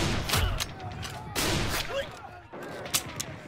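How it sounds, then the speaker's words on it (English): Gunfire comes from a German trench in a World War I battle reenactment: several sharp shots and bursts cut through a busy mix of rumbling and noise, fairly loud and close. "Sergeant York and his men come under fire from another German trench"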